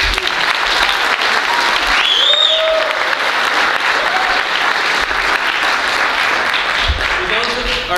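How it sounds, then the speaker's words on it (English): Audience applause fills a school hall after a freshman speech, a steady dense wash of clapping lasting the whole stretch at fairly loud level, with a few brief voices and whistles rising above it. "Please give another round of applause for our meeting."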